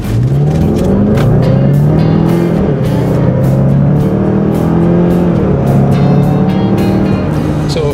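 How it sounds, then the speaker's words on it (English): A 2019 Mazda CX-5 SUV drives along, its engine rising and falling through gear changes in a loud, continuous drone with steady road noise and no speech. "So here we are behind the wheel of the 2019 CX-5."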